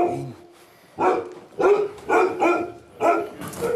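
An elderly German Shepherd mix bitch barks in a few spaced, fairly close woofs, each short and forceful, with brief pauses between them and no talk over them.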